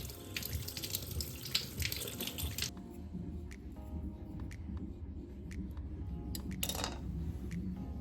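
Fresh turmeric root rinsed under a running kitchen tap, a steady splash of water that briefly stops and restarts, with light clinks of handling at the sink.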